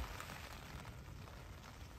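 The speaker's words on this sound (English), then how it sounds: "relentless wind and rain" Steady, dense rain patter with a broad rushing roar of wind on a wild campsite in the Lake District, continuous and fairly loud throughout, no voices.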